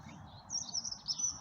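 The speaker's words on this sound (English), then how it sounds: "You can hear the dunnock there calling." A dunnock calls in a garden with a few faint, high chirps over soft low background noise.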